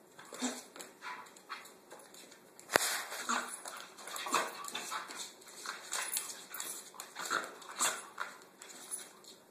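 A dog whimpers and whines in short, repeated bursts close by, with a sharp knock partway through and scattered background noise.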